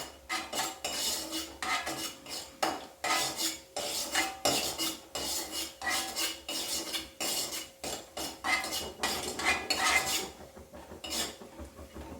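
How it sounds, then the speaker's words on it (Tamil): Cashews roast in ghee in a pan for moong dal halwa, stirred with a metal utensil in repeated scraping, clinking strokes against the pan. The strokes are loud and close, with no talking. "முந்திரி இதிலே ரோஸ்ட் பண்ணிவிட்டு எடுத்துடலாம்"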